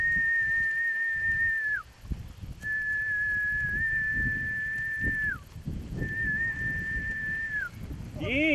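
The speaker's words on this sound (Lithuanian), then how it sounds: "Jis pradeda švilpti, brazdinti maišą, kuriame sudėti įvairūs duonos gaminiai." A farmer whistles to call grazing cattle, long sustained high whistles repeated three times with short pauses, loud and close over wind noise outdoors.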